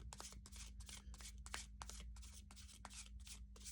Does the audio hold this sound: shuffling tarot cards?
yes